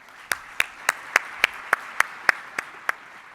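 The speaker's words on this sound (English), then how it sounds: "Give her a round of applause." Steady, evenly spaced claps at a business software conference keynote in 2018, about ten crisp hand claps in a slow, regular rhythm, fairly close and with no talking over them.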